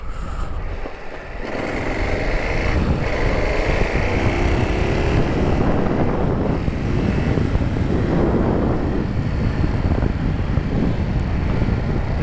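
A Ducati Monster 821 motorcycle on a test ride: a loud, steady engine and road drone holds throughout after a quieter first second, with no talk.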